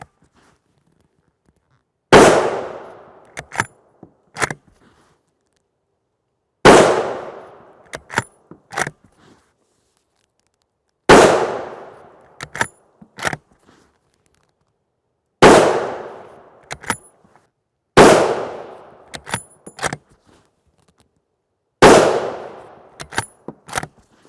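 A TC Compass rifle fires 300 Winchester Magnum 145-grain FMJ Prvi Partizan rounds: six loud, sharp shots spaced several seconds apart, each trailed by a short echo and a few metallic clicks.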